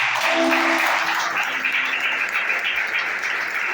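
A church congregation applauds loudly and steadily during an evangelistic sermon, a dense wash of clapping that continues alone for several seconds.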